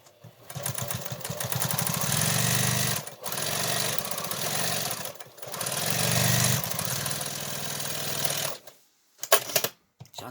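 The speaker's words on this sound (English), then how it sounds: "you're going to run it through your machine, and you're going to sew all 4 pieces together" Sewing machine stitching pieces of a fabric face mask together, fast rattling runs of stitches in three long bursts with brief pauses, close and loud, ending in a few short clunks.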